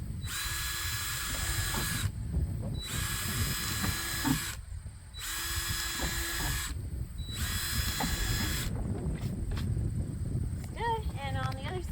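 A power drill bores ventilation holes through the side of a plastic worm farm bin in about four loud, steady bursts separated by short pauses, with faint voices around it.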